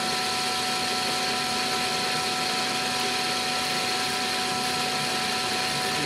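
A lathe turns CrMo 4140 steel with a positive rake cutter, giving a steady, dense machining whine with faint tonal hum and continuous broadband hiss at constant level, with no talk.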